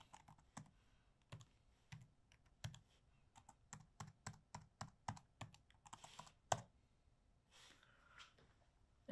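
Keys clatter on a computer keyboard as a password is typed, a quiet run of distinct taps in uneven bursts with short pauses, close and alone with no talk.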